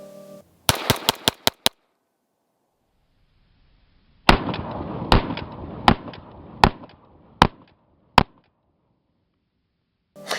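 Sharp gunshots from a Bul Armory 1911 Government 9mm single-stack pistol at a shooting range, close and loud. Rapid strings of shots play at full speed, then a slowed stretch of booming, smeared reports follows before a final shot.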